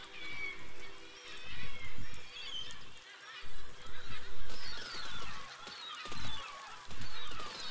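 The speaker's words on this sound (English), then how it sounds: "based on the sound of frying seagulls sliding into the ground" Seagulls frying and sliding into the ground in the video game Besiege, a string of loud, wavering squawks and honking cries over low crackling rumbles, coming in repeated bursts.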